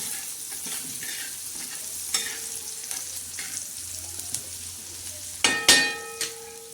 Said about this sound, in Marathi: बघा, हा कांदा आपला छान असा तळलाय.